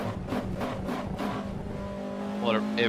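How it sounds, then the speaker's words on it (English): A race car engine in the sim racing game Assetto Corsa EVO revs steadily with rising pitch sweeps near the end, heard under continuous talk from people in the room. "it's insane the way that car sounds."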